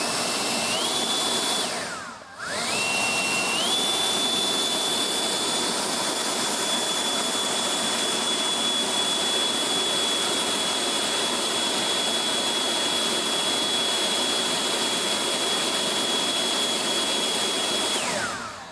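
A Greenworks 60V battery leaf blower runs at full turbo, rated 610 CFM and 130 MPH. It roars with a loud, steady rush of air and a high whine that briefly dips, then climbs and holds.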